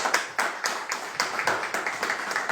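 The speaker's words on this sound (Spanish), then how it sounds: "un fuerte aplauso para todo eso" A small audience at a Frente Amplio candidate presentation for the 2021 Peruvian congressional elections in Cajamarca claps in a quick, fairly regular rhythm, nearby and moderately loud, with no talk over it.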